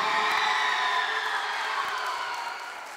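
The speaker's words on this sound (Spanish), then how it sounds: "quiero también escuchar bien fuerte el grito y el aplauso de la Alianza Mitología" High school students from an anniversary-day alliance at El Pilar in Curicó shout and cheer in a sustained, loud crowd roar with whoops, holding steady before easing slightly at the end.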